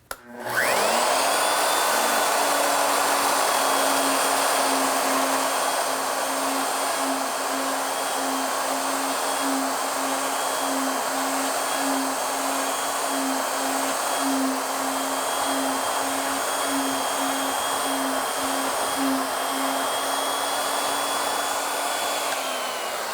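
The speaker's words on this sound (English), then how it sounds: "All right, let's mortise." Router cutting a mortise in wood with a shop-made mortising jig (Morley Mortiser), running as a steady, loud, continuous high-pitched whine with a faint pulsing hum, unbroken for the whole stretch and no talk.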